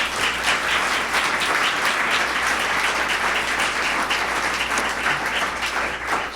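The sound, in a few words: applause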